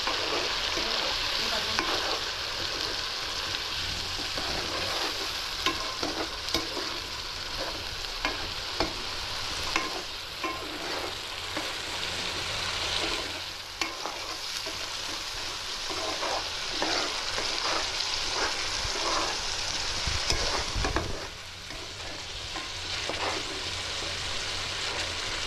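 Onions fry in hot oil with a loud, constant sizzle, while frequent stirring scrapes and clacks of a spoon against the pan sound close by.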